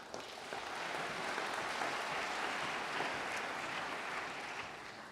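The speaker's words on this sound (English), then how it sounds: "Give our panelists a round of applause" An audience at a water-sector innovation panel gives the panelists a round of applause, a soft, even patter of many hands heard at some distance, holding steady throughout.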